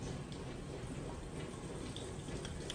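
Tap water pours steadily into a small cup for watering a plant, a continuous close hiss and splash with no pauses and no voices.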